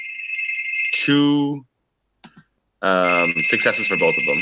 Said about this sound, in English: That's my doorbell. That's really loud.